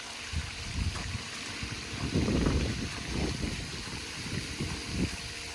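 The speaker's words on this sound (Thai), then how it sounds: "ทั้งน้ำตกทั้งน้ำพุ" Water flowing from a waterfall and fountain at a home garden, a steady rushing wash with soft splashing and trickling surges, moderately quiet and continuous.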